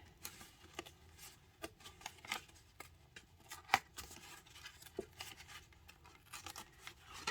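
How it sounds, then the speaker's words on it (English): Greeting card torn by hand, heard as a series of short, quiet ripping bursts spaced irregularly, close up and faint, with no voices. "I sometimes tear my card, and this kind of is a bit quicker than me actually cutting it."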